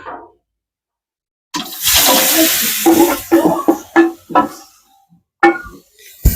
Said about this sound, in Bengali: গাজরটাকে ঘিয়ের মধ্যে ভালোভাবে নাড়িয়ে নেব।